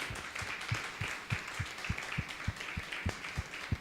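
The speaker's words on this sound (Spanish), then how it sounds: "Denle un aplauso fuerte al Señor" A church congregation claps in steady, rhythmic unison, each clap distinct and slightly distant, keeping an even beat for several seconds with faint background voices.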